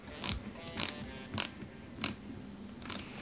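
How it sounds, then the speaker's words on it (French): Small screws being carefully driven into a 1:8 scale Peugeot 205 GTI 1.9 model produce a series of six quiet, crisp ratcheting clicks at a regular pace. The sound is close and there is no talking. "On visse ça délicatement."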